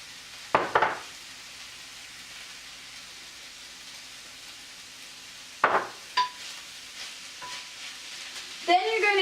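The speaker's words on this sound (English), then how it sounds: "you're going to want to stir your pan to keep things from sticking to the pan or burning" Lasagna filling of heated ground meat stirred in a frying pan: a low continuous sizzle broken by a few loud scraping strokes of the spoon against the pan, near and alone.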